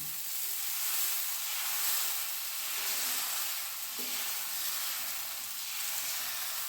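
Spicy corn dosa batter sizzles on a hot pan over a high flame, a steady moderately loud hiss with gentle swells and a soft clink midway, no voices over it.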